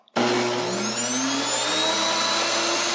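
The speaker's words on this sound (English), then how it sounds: "We'll put it on high and turn it on." A NutriMill electric grain grinder switches on at high speed with a sudden start, then holds a loud, steady whining motor roar with a fixed hum throughout.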